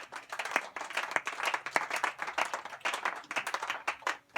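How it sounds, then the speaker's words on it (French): A church congregation claps for the Lord in quick, rhythmic, fairly close applause that carries on without pause, with no clear speech over it. "Est-ce que tu peux acclamer pour le Seigneur?"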